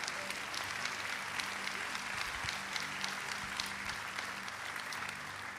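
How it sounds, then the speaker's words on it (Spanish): Church congregation applauding a couple called forward during a sermon, an even, continuous patter of many hands heard from some distance, fairly quiet but unbroken throughout. "Un aplauso para ellos."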